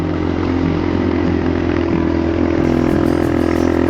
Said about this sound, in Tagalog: Lakas ng scooter ni Kuya, no?